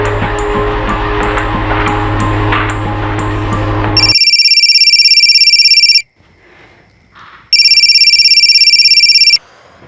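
A phone ringtone trills loudly in two long bursts with a quiet gap between, following a stretch of busy background noise.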